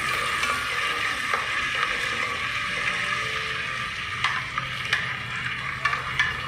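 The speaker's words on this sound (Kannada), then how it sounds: "ಇವಾಗ ಈರುಳ್ಳಿಯನ್ನು ಫ್ರೈ ಮಾಡ್ತಾ ಇದ್ದೀನಿ" Onions frying in oil for a mixed vegetable sambar, a dense, even hiss of sizzling that carries throughout, with occasional small clicks of a spoon.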